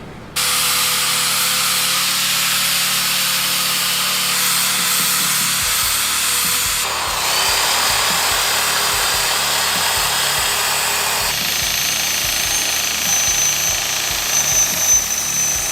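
A power tool whines steadily while grinding and sanding steel frame tubes on a Harley Sportster being converted to a hardtail chopper, the motor pitch shifting in stages over a sustained close, loud run with no talking.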